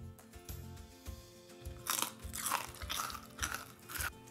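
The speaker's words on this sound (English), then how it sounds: "Here you can see how crunchy it is." Crisp, repeated crunching bites into a crunchy rice mathri cracker made with malai, a series of sharp close crackles with no talking.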